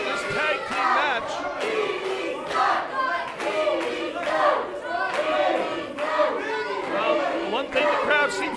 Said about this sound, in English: one thing the crowd seems to be able to agree upon is that they do not like Vinny